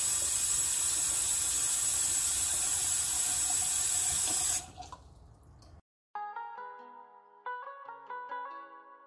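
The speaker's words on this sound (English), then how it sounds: "I fill my teapot with hot water from the tap" Hot tap water pours steadily into a teapot as a bright hissing stream that shuts off halfway through, followed by a brief pause and then gentle melodic music.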